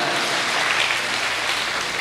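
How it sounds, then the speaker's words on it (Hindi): A crowd at a Hindi comic poetry gathering (kavi sammelan) claps steadily for about two seconds, a dense, even wash of applause with no voices on top. "तालियां बजा दीजिए।"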